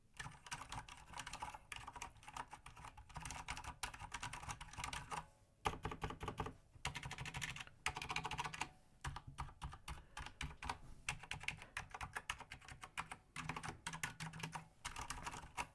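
Fast typing on a Fnatic Gear Rush keyboard with Cherry MX Silent Red switches makes soft, muted, dense key clatter close by, with brief pauses between bursts.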